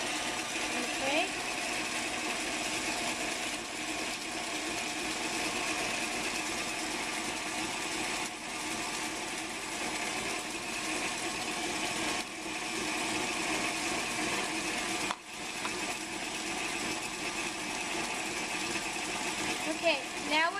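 An electric mixer beats chocolate chess pie batter as eggs are worked in, giving a steady, close whirring motor drone that runs unbroken with a brief dip near the end.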